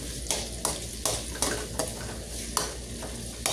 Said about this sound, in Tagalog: Mix na ang sibuyas at bawang.